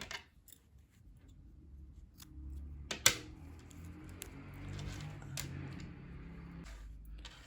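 Scissors snip through crochet yarn with one sharp close click, joined by a few softer taps and rustles of handling in an otherwise quiet room.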